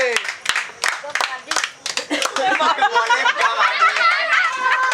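An audience at a Kali Puja prize distribution gives a few scattered, close claps at the start, then excited talk and chatter take over for the rest.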